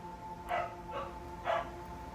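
A dog named Comet barks three times in the background of a quiet indoor room, evenly spaced, moderately loud and not close.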